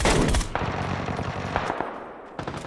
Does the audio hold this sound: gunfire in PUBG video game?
yes